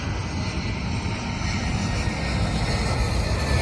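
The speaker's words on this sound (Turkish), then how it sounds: "Delta'nın Airbus 319'u geliyor." A Delta Airbus A319 jet airliner in a flight simulator game roars steadily as it approaches, a broad continuous engine rumble that grows slightly louder toward the end.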